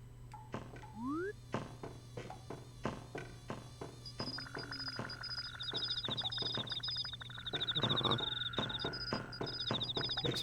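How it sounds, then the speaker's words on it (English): Crickets chirp as ambient sound in a Zen garden in the video game Animal Crossing, steady repeated high trills layered over a low constant hum, with other short chimes and clicks from the game. "these crickets might be good for the Zen garden as ambient sounds"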